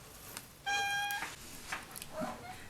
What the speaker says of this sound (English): Maybe if I hold on to this cat for a little while, she'll shut up